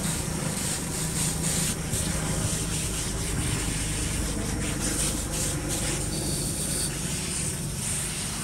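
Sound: rinsing a fish pond filter with water spray

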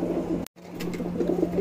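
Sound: tumbler roller pigeon cooing

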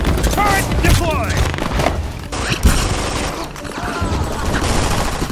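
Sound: deployed turret firing in video game Brink

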